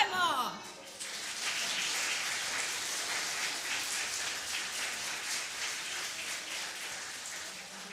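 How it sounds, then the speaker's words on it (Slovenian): Sustained applause from an audience at a regional gathering of kindergarten children's choirs, a dense even patter of many hands clapping that follows a brief spoken greeting and holds steady throughout. "Zaploskajmo."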